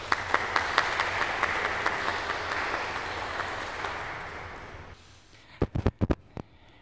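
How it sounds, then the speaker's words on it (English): A church congregation at Mass claps in sustained applause for visitors, which fades after about five seconds and leaves a few scattered, louder final claps. "So give them a round of applause."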